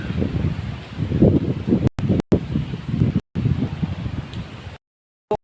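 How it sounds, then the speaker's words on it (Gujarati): Gusty wind buffets the microphone in rough bursts outdoors at Lalavadraiji temple in Bhiyal, Junagadh, cutting out briefly several times before dropping to silence near the end. "પવન ચાલુ છે"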